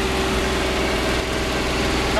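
A Magirus truck's diesel engine drones loud and close with a steady low rumble and rhythmic throb as it runs at full throttle into fourth gear, someone speaking over the noise.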